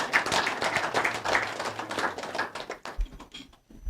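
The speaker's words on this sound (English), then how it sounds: "Make una clap for the committee members." An audience at a live broadcast program claps for committee members, a brisk, dense burst of handclaps that thins to a few scattered claps before stopping.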